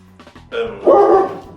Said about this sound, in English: We've got the chief security dog off camera.